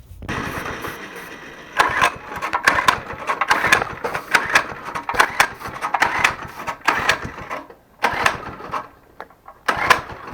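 A small minibike engine from a barn find sputters and revs in uneven bursts, loud and close, with rough choppy pulses and brief dips, no talking.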